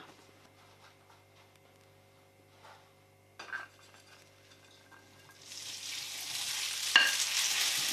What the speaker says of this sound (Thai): ใส่น้ำมันลงไปนิดนึงเพื่อจะผัดเส้นนะคะ